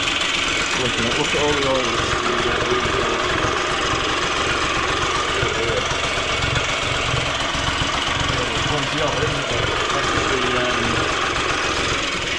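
A Honda MT5 engine runs for the first time in about 12 years, a steady, loud idling rumble with slight knocking that fills the whole clip, while a person speaks briefly over it.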